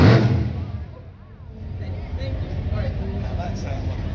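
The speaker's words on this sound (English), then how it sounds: "That sounds like a race car." A vintage race car engine starting up, a loud initial burst that dips, then settles into a rough, steady idle rumble.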